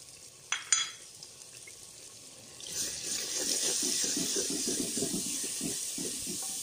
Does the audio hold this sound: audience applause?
no